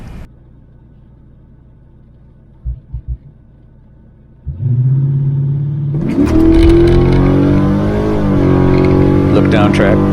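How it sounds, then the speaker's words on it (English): A drag racing car launches at full throttle down a strip against a Chevelle. After a quiet idle with a few short blips, the engine erupts into a loud sustained roar that climbs in pitch. "unfortunately for Tom, he red lit, and that gives me a free run, full throttle all the way through"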